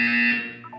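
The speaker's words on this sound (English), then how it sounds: "You will hear a buzzer." A single loud, steady electronic buzzer sounds during a guided physical and mental wellness exercise, holding its tone for under a second before tapering off.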